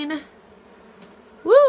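Newly installed honey bees buzz around their hive in a low, steady hum, with brief excited voices at the start and end.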